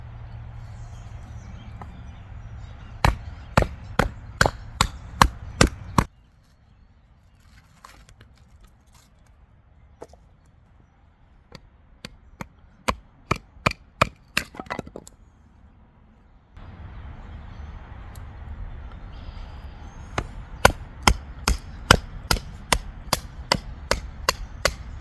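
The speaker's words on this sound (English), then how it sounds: "I'm just going to take my knife to the top of this, and we'll use that to split the wood" Sharp, rapid wooden knocks of a knife being batoned through damp wood outdoors, delivered in quick bursts of several strikes separated by pauses, close and crisp.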